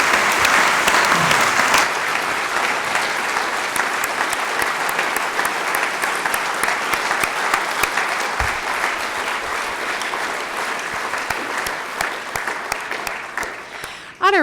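Audience at a public oration applauding, sustained dense clapping that carries for over ten seconds before tapering off, ending with a brief sound at the very end.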